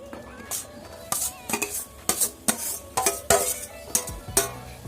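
Papaya pieces stirred into hot sugar syrup with raisins: a spoon clanks and scrapes rhythmically against a metal pot, with a soft bubbling underneath. The stirring is close and fairly loud, and no one speaks.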